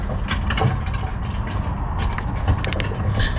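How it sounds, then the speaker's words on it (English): Torque wrench ratcheting on 10mm bolts during a timing chain and water pump job on a 2005 Ford 3.0 OHV engine, a dense run of close, loud metallic clicks with a few sharper snaps near the end. "starting with the smaller bolts, the 10mm, we're going to torque everything to 84 inch-pounds"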